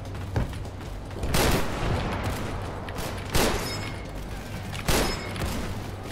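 Gunfire in a video game aimed at the player: three heavy, booming bursts spaced about one and a half seconds apart over a continuous low rumble of background noise.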